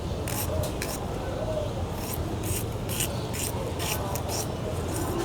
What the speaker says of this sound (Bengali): কেটে নিচ্ছি, এই পেঁয়াজ কাঁচামরিচ,